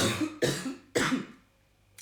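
Three harsh, close coughs in quick succession, the last trailing off into near silence.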